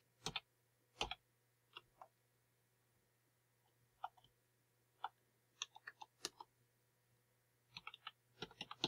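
Light, sparse keystrokes on a computer keyboard, with isolated taps and short clusters of clicks, quiet and close in an otherwise silent room.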